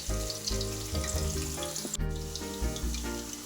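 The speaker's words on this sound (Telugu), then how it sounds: "ఇప్పుడు మీడియం ఫ్లేమ్లో పెట్టుకొని ఉసిరికాయలని ఫ్రై చేసుకుందాం" Indian gooseberries (amla) frying in hot oil over a medium flame, a loud, close, continuous sizzle and bubbling with faint clinks from the ladle, and no voices.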